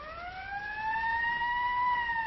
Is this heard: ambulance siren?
yes